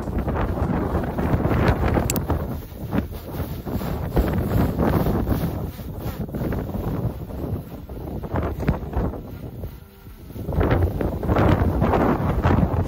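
Strong gusting wind buffets the microphone of a DJI Mini 4 Pro drone with a constant roar, surging and easing over several seconds, loud and close.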